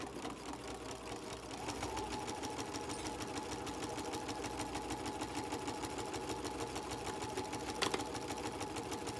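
A sewing machine stitches fabric for a pillow pocket, a steady, close mechanical whir with rapid needle ticking that runs unbroken throughout.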